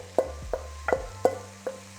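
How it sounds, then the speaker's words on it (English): Mince mixture going into a pan after white wine has been reduced for a lasagna Bolognese, heard as a series of distinct scraping, stirring knocks with a low sizzle underneath, close and moderately loud, with no talking. "add your mince mixture"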